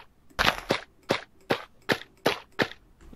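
Repeated Minecraft lily pad placement sounds from right-clicking in the game, about seven short, sharp, evenly spaced taps, close and clear with no talking.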